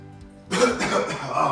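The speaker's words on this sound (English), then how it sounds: "I coughed during the activity" A single sharp cough bursts out close by during a children's foot-skills warm-up, brief and moderately loud after a quiet moment, with no talk around it.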